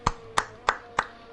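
Four evenly spaced sharp hand claps, close and crisp, in a slow steady rhythm with nothing else heard.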